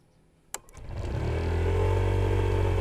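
A Honda ADV 2020 scooter's engine hums low and steady after a sharp click, swelling into a sustained drone as the rider eases the throttle on a street.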